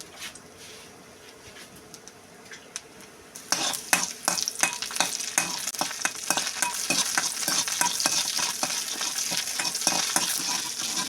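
Garlic hits hot mustard oil in a wok, bursting into a loud, crackling sizzle after a quiet start, with spatter and occasional stirring scrapes close by.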